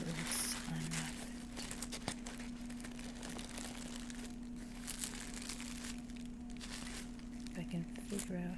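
Tissue paper being unwrapped from a mug: soft, close crinkling and rustling that continues in bursts, with quiet whispered talk over it.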